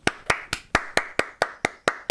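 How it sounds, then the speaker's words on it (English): Steady, evenly spaced hand claps, about ten in two seconds, close and crisp, with no voices. "Can we have a round of applause for Hazel?"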